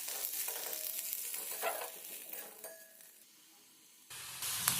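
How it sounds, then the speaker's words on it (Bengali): Onions fry in mustard oil with dried chili and nigella seeds in a wok, giving a close, moderate sizzle with stirring scrapes and light clinks, easing for a moment before the hiss swells again near the end. "পেঁয়াজ লাল লাল করে ভাজা হয়ে গেছে"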